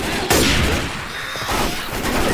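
Gunfire rattles in the zombie shooter game Left 4 Dead 2, a sharp burst followed by dense, noisy shooting and chaotic game sounds throughout the short moment.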